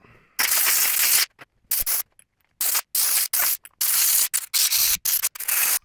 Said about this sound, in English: Now I'll blow the carburetor out.